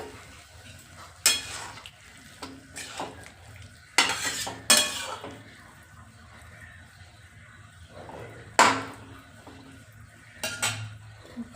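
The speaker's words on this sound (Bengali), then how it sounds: "এখন মশলাটাকে ভালো করে কষিয়ে নেব।" Potato and pea spice paste being stir-fried in a pan, with sharp scrapes and clanks of a spoon against metal rising over a low sizzle, in irregular bursts.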